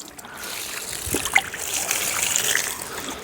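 Water trickles and splashes onto soil around a newly planted jackfruit sapling in a steady, close pour that lasts a few seconds.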